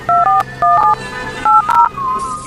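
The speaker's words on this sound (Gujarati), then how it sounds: "સીઆઈડી ને ફોન કરવો પડશે મારે" A telephone keypad sounds a quick series of touch-tone beeps in short bursts, followed by a longer tone, loud and close with no voices.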